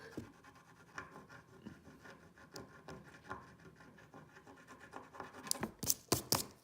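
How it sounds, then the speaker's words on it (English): Rough, repeated scratching of a homemade scratch-off lottery card, a close dry rasp in short strokes that grows louder and sharper toward the end. "it's dry and I'm going to scratch it off and see if it works"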